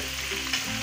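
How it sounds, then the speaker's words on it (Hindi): Onions and tomatoes fry in a pan for Delhi-style mutton nihari, giving a short, steady, close sizzle with no voices. "अभी प्याजों और टमाटर को अच्छी तरह जो है हम भून लेंगे"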